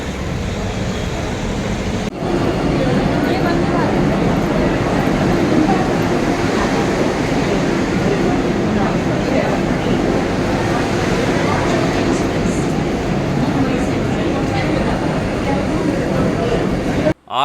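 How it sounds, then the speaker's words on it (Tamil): Busy railway station ambience at Surat, India, around 9:30 at night: a steady roar of crowd murmur and rumbling train noise, continuous and fairly loud, ending with a brief jolt. "சூரத் ரயில்வே ஸ்டேஷன் நைட்டு ஒரு ஒம்போதரைக்கு பிஸியாக இருக்குல்ல"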